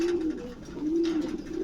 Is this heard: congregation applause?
no